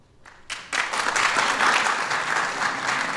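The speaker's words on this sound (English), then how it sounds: "I tried stopping the applause without success" Audience applause at the National Design Awards ceremony, rising from a brief patter into sustained, dense clapping that fills the hall and holds steady.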